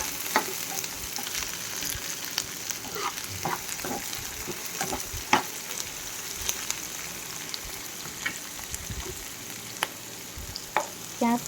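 Onions frying in a pan for an Assamese-style duck curry, a continuous soft sizzle with scattered sharp crackles and pops close by, with no voices over it.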